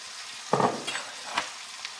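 Onions going into a hot pan for Al Kabsa hit the oil with a sudden hiss that settles into a steady close sizzle, broken by a few quick stirring scrapes.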